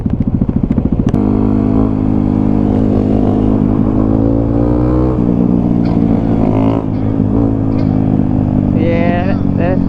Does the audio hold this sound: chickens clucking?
no